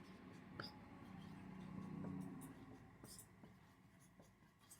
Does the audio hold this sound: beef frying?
no